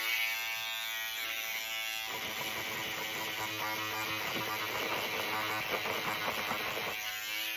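A small buzzing electric tool is run quickly back and forth to cut through embroidery bobbin thread, giving a steady close whine that holds for about five seconds.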